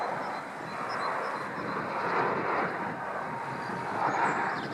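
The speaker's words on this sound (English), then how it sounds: "you sometimes hear the backdraft of their engines through the trees" A fixed-wing airplane passes near Rose Vale Park in Greater Manchester, a broad, moderately faint engine roar that swells and fades across several seconds with no speech.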